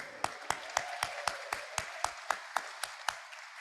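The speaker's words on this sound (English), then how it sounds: "I do want to clap for you." Applause at a weekly Rotary Club hybrid meeting for the club treasurer, heard as a slow, evenly spaced series of single sharp claps, about four per second, from one nearby person over a quiet room.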